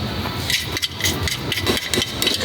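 Steady hammer blows ring out in a quick, regular rhythm, loud and close, over a continuous mechanical drone, while working on a McLaren 720S GT3R engine after an engine failure.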